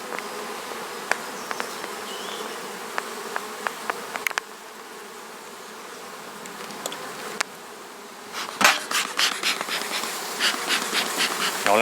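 Honeybees buzz steadily around an open hive while smoke is applied, a dense, droning hum with sharp clicks and knocks scattered throughout and a louder scraping stretch near the end.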